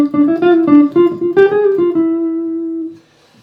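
A guitar plays a quick diminished scale line of crisp, cleanly picked single notes in a steady run, ending on a held note that rings out and fades.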